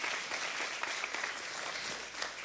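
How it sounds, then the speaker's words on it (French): Sustained applause from an audience at a French-language Christian preaching event, dense and steady throughout with no talk over it. "Il y en a qui commencent à applaudir"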